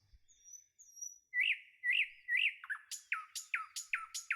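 House sparrow chicks chirp close by. Faint thin calls give way to a run of sharp, repeated squawking chirps that quicken toward the end.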